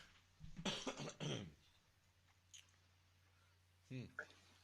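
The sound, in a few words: person coughing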